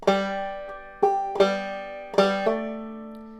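A few clawhammer-style banjo notes, the last measure of the tune 'Quail is a Pretty Bird', ring out one after another, bright and close, ending on a final sustained note that fades slowly.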